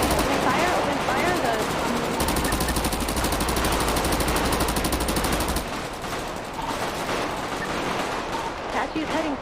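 An Apache helicopter in a video game draws bursts of rapid machine-gun fire, loud and sustained, with a dense rattling stretch in the middle and scattered shots after it. Radio-style voices talk over the shooting.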